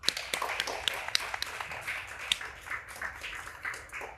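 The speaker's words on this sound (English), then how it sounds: "and a big round of applause for Erik, please." Applause from an audience at a business event about AI: a fairly quiet, dense patter of clapping with sharp individual claps standing out, steady for about four seconds.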